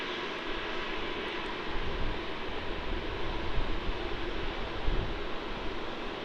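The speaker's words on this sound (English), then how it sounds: "And this 717 is going to Canberra as QF 1514." A Qantas Boeing 717-200 jet bound for Canberra at Melbourne Airport gives off a steady, broad engine roar with some wind noise, fairly distant and even throughout.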